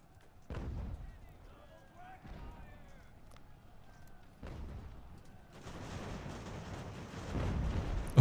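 Artillery firing canister rounds in the video game Ultimate General: American Revolution, heard as a few dull, mid-distance booms spaced a couple of seconds apart, followed by a rising wash of battle noise.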